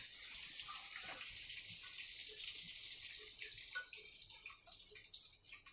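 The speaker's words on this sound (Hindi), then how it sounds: "हमारा जो राई जीरा हम लोगों ने डाला था वो तिड़कने लग गया है" Mustard and cumin seeds crackling in hot oil, a steady hiss of frying with scattered small pops and sizzles, close and fairly quiet.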